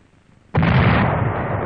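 A 105mm M2A1 howitzer on an M2 carriage fires: one sudden, very loud blast that rolls straight into a long, heavy roaring rumble, close by, with no talking.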